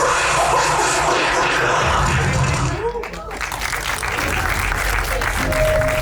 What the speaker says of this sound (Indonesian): Tepuk tangan sekali lagi teman-teman.